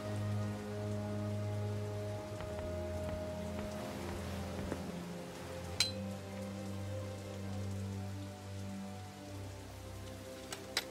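Rain falling in the adventure game Das Schwarze Auge: Satinavs Ketten, a soft continuous patter on surfaces under low sustained ambient tones, with a couple of faint clinks.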